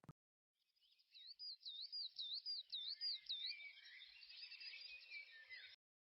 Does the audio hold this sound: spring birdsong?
yes